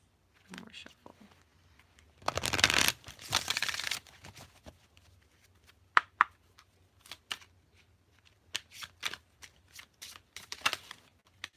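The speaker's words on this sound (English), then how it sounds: "One more shuffle." Tarot cards being shuffled in a loud, dense riffle lasting about two seconds, followed by scattered soft card taps and flicks, with quiet speech in the pauses.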